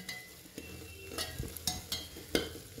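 Jackfruit curry being stirred in a pan after meat masala powder goes in, with soft scraping strokes and faint sizzling, quiet and close, with no talking.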